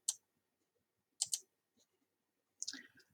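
Sharp computer mouse clicks in a quiet room: one single click, then a quick double click, and a short cluster of softer clicks and handling noise toward the end.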